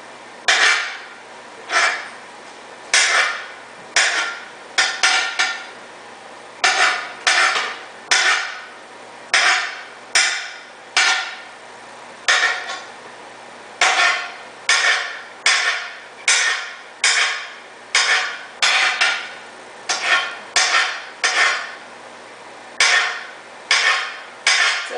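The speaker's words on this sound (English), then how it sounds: "I'm going to slice up some mushrooms" Knife slicing fresh mushrooms on a cutting board for a raw dish, a steady run of sharp chopping taps in quick clusters, close and clear, with no talking.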